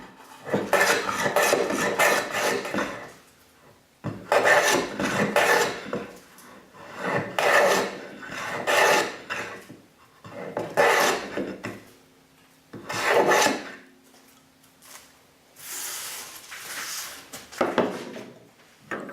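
Hand plane run along the edge of a cherry board, a series of about eight long scraping, shaving strokes in a steady rhythm with short pauses between them, close and clear with no speech.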